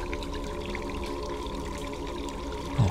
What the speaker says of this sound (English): There's water everywhere.